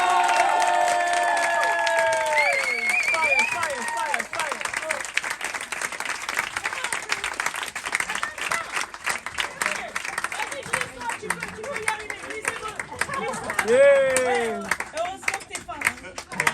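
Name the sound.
audience applause and cheering after a concert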